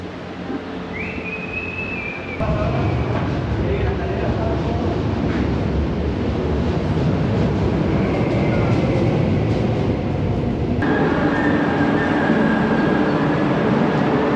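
A Buenos Aires subway train rumbles loudly and continuously, with a metallic squeal from the wheels and a sudden jump in noise as it runs on.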